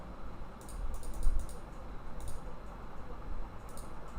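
Quick clusters of clicks from a computer mouse and keyboard during a coding session, with short crisp bursts of tapping spread over a low steady room hum. The sound is close and moderately quiet, with no talking.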